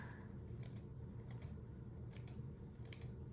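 Scissors trimming paper for a mixed media craft, a series of brief crisp snips recurring every half second or so, close up over a steady low room hum.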